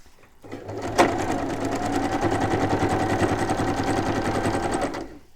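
A sewing machine stitching a row of fabric runs in one steady, rapid, mechanical whir for about four and a half seconds, close and fairly loud, with no talking.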